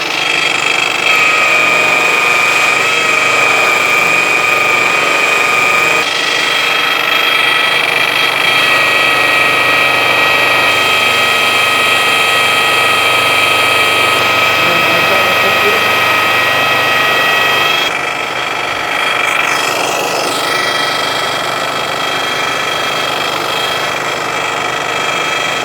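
Loud, continuous high whine of a buffing wheel running at about 1,400 RPM while polishing anodized aluminum trim, steady throughout with slight shifts in pitch as the part is pressed against it.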